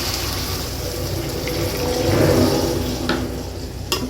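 Water is poured into a pan of simmering baila fish curry, giving a steady close-up splashing and bubbling rush that swells slightly midway, with a couple of faint clinks near the end.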